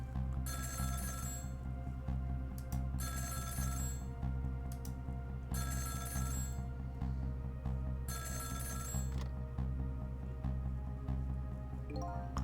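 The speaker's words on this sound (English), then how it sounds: "the phone rang" A telephone rings in the video game Ghost Trick: four long electronic ring bursts in a steady pattern, each a couple of seconds apart, over a constant low background music bed, with no voices.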